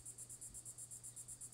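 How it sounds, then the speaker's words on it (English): In the countryside an insect sings in faint, rapid, evenly spaced pulses, a high rhythmic buzzing set over a low steady hum. "you would actually express disdain for the sound of something so beautiful as a cicada"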